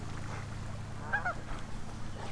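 A couple of brief goose honks in the middle distance over a steady low background rumble.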